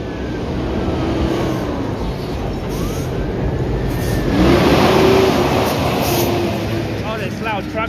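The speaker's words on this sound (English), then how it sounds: "Oh, this loud truck." A loud truck passes along a busy Toronto street, its engine roar and broadband road noise swelling toward the middle and staying heavy throughout, with traffic rumble underneath.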